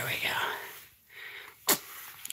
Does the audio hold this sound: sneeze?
yes